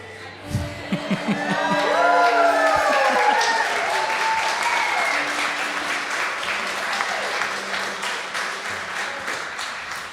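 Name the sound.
comedy club audience applause and cheering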